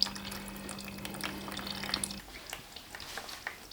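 Headlight washer fluid draining from a Toyota GT86-type car during a washer install, a trickling, bubbling stream with small drips, close and steady, and a faint hum that cuts out partway through.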